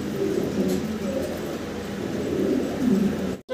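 Mundian pigeons coo in repeated soft, low, throaty phrases, close by and continuous, with a faint murmur of background noise and a sudden cut at the end.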